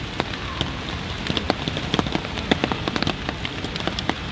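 Pouring rain falls steadily outdoors, a dense wash of patter with scattered sharper drops tapping close by, alone without voices.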